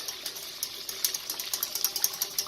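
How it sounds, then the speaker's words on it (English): Wing sauce being whisked in a heavy-bottomed pan, a quiet, quick rhythmic scraping and ticking of the whisk, repeated strokes throughout with no talking. "Give it a little whisk."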